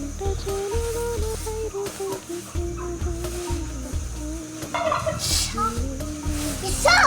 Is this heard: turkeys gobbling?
yes